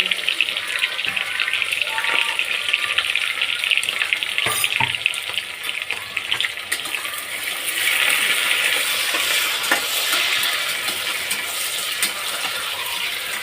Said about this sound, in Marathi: कांदा आणि मिरची भाजताना हाय फ्लेम ठेवून कांदा भाजावा